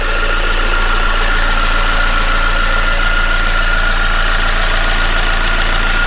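Vauxhall Vectra 1.9 CDTI diesel engine from 2005, with an alternator that is not charging, idling loudly and steadily nearby with a constant low rumble and a faint diesel clatter.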